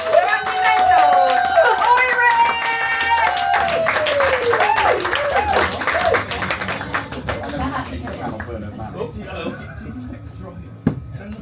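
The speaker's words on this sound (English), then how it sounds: "Clap your hands." Audience clapping and cheering at a comedy show, loud whooping voices over rapid crowd hand claps that thin into scattered claps and chatter, ending with a single sharp knock.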